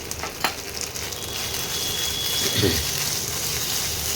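Coriander, green chilli and garlic paste sautéing in hot oil for a green rohu fish dish, a steady close sizzle with a few scrapes of stirring near the start.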